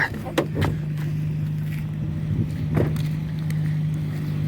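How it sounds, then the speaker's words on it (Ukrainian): A freshly repaired car engine idles quietly at close range with a steady low hum, while its hydraulic lifters tap in a few light irregular clicks. "Ну працює добре, моторчик взагалі іменно шепче. Такі гідрики якісь підстукують."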